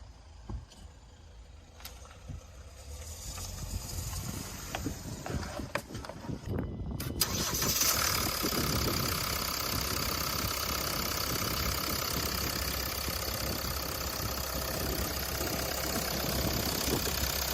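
A used car's engine starts partway through, then settles into a steady, loud idle that runs continuously to the end, with no talking over it.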